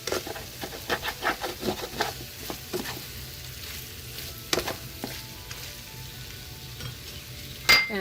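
Chicken strips and masala frying in a pan for Frankie rolls, a steady close sizzle broken by repeated scraping and stirring strokes, with a sharper clatter near the end.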